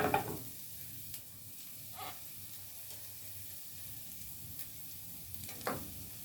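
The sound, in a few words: adding cooled rice to pan for egg and bacon fried rice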